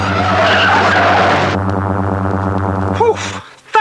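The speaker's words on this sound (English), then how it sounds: "Activate all wheel brakes." A cartoon robot car's wheel brakes lock up in a loud, sustained tire skid with engine drone, ending abruptly after about three and a half seconds with a brief electronic effect.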